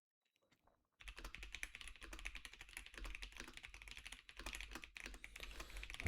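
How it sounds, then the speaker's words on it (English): Rapid typing on a computer keyboard, a dense run of close, crisp key clicks starting after a second of near silence and continuing steadily to the end. "I'm just quickly typing"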